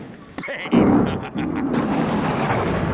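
A deep rumbling thunder effect plays at a bowling match, starting with a sharp crack and rolling into a loud, sustained broadband roar that fills the clip.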